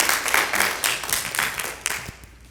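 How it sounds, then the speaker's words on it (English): Seminar audience applauding a speaker indoors, a short burst of moderate clapping that fades out after a couple of seconds. "clap your hands for Mr. Ted Ogilvie"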